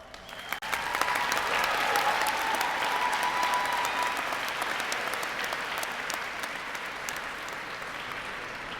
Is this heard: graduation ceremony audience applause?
yes